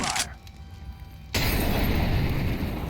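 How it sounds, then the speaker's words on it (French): A thrown molotov bursts into a loud, sustained roar of flame in a Counter-Strike match on the Vertigo map, near a concrete slab and metal beam, the fiery whoosh starting abruptly partway through and holding steady to the end. "Je lance la molly."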